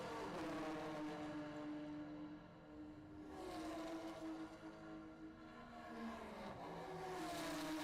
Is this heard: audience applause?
no